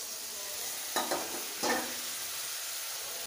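Water poured into spice paste frying in a pan sets off two sharp bursts of hissing sizzle over a quieter steady frying sound, heard close.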